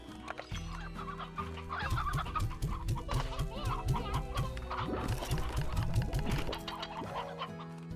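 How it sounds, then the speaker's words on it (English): Chickens clucking close by, a busy run of overlapping clucks and squawks that holds steady throughout with a faint hum underneath. "Chickens?"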